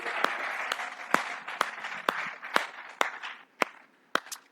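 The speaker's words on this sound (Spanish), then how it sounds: "Denle un aplauso al Espíritu Santo." A church congregation applauds at a Spanish-language service, a steady wash of clapping with sharp individual claps standing out, moderately loud and continuous for several seconds.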